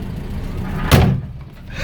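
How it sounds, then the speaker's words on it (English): A door thumps shut on a 1980 Land Rover Series 3 109, a single short, heavy closing thud with a brief low rumble after it, heard close up over quiet cabin noise. "Better close the door."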